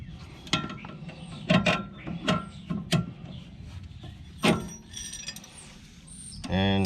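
An Allen key and spanner work on the nut of a sway bar link on a lifted IFS 4WD, with scattered metallic clicks and taps close by between pauses.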